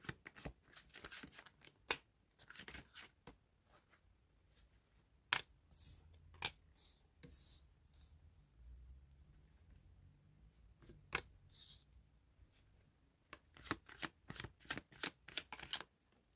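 Tarot cards shuffled by hand in quiet surroundings, sharp papery riffles and slaps arriving in irregular bursts with brief pauses, close and fairly soft.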